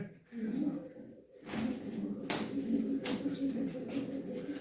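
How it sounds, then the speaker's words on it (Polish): Low, soft coos from a female pigeon repeat close by, a throaty rolling murmur with brief rustling between calls. "To jest gołąb, e, samiczka, Adajwina."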